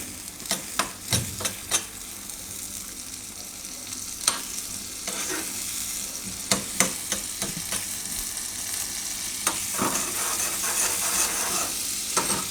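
Garlic roasting in butter in a pan for a winter cauliflower soup, a steady soft sizzle broken by scattered sharp clicks and scrapes of stirring, close and moderately loud with no talk.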